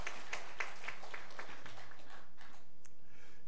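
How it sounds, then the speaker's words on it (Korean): A church congregation claps for the choir at a Sunday service. The claps are scattered and fairly faint, thin out and fade within a few seconds, and no one speaks. "우리 박수 한번 부탁합니다."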